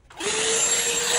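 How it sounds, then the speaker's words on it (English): A handheld vacuum cleaner whirs to life on a bedroom window sill, spinning up quickly into a loud, steady high-pitched motor whine that holds to the end. "Get the handy vacuum cleaner out again."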